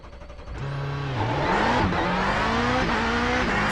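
Subaru rallycross car in iRacing at Sonoma, engine revving up loud and close, pitch climbing and shifting through gears as it accelerates, with no talk over it.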